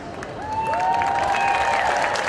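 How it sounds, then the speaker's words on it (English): A crowd applauds at an under-21 state teams woodchopping relay, a close, continuous spread of clapping, while a whistle-like tone glides through the middle. "Big round of applause for New South Wales."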